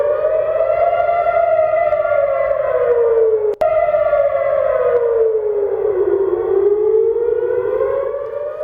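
Air raid sirens wail continuously over Tel Aviv, a loud rising and falling civil defense tone sustained throughout, with a brief dropout partway before the howl resumes.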